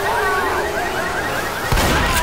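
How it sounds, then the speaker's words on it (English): In the zombie shooter Left 4 Dead 2, a car alarm wails continuously with warbling, repeating pitch sweeps. It sits among steady loud game noise, and a sharp burst near the end cuts through. "There's alarms everywhere"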